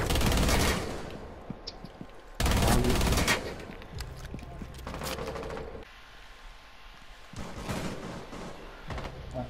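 Bursts of video game gunfire crack out loudly in heavy clusters, with a dense volley at the start and another near two and a half seconds, then lighter scattered shots and rumble trailing through the rest.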